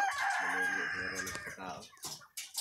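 Rooster crowing at a chicken farm, a long drawn-out cock-a-doodle-doo up close and loud, with other fowl clucking and a second crow breaking in near the end.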